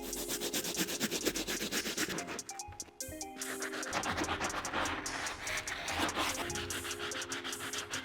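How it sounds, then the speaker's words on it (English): A stiff bristle brush scrubs the outsole of an Air Jordan 1 Bred sneaker in quick, rhythmic rasping strokes, close and fairly quiet, with a brief pause partway through. "we're going to be moving on to the outsole using our stiff bristle brush"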